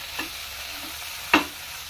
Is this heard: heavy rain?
no